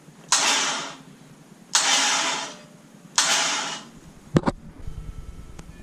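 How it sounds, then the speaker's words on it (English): A 5.3 liter engine's starter is bumped in three short cranking bursts of about a second each, loud and close, followed by a couple of sharp clicks and a brief mechanical clatter. "just continue to bump the starter for a couple seconds at a time"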